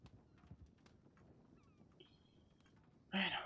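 Faint, rhythmic horse hoofbeats clip-clop in the RedM (Red Dead) roleplay game, set in 1920, under a soft background murmur, then a sudden loud burst of sound near the end.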